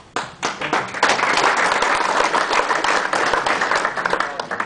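Clapping and applause break out from the crowd at a contractors' emergency meeting on Marco Island, starting sharply, swelling within a second and continuing unevenly in a room full of people.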